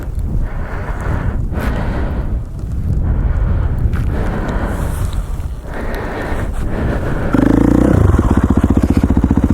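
A dirtbike motorcycle with a rear fault rides a mountain trail. The engine drones under heavy wind buffeting and rises in pitch as the throttle opens, then settles into a louder steady buzz near the end.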